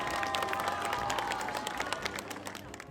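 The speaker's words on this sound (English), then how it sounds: "he could hear the sound of clapping" A crowd gathered around a bandstand clapping, a dense and lively patter of many hands at close range that stays steady and fades slightly at the end.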